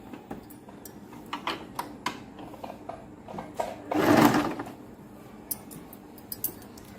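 Sewing machine stitching the fold of a blouse sleeve: short bursts of rapid mechanical stitching with clicks and pauses, one longer run midway, close and moderately loud, no talking.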